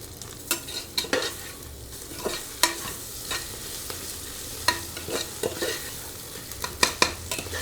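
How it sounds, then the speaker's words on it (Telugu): Spice paste for mutton pulao stirred and fried in a pan, a steady sizzle under repeated sharp clacks of a spoon against the vessel, close and fairly loud. "పచ్చివాసన పోయేదాకా వేపేద్దామా కలిపేసి"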